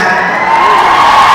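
A crowd at a Grand Opening launch event for new presenters claps and cheers, a dense, steady wash of applause with whoops filling the short moment at close range.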